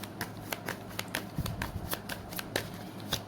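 Tarot cards being shuffled and drawn, a steady run of crisp riffling snaps and flicks repeating roughly every half second, close and moderately loud with faint room hum beneath.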